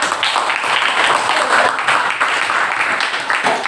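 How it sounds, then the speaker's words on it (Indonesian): A classroom full of students claps together in a dense burst of applause lasting a few seconds, with some voices mixed in. "Ya, tepuk tangan untuk"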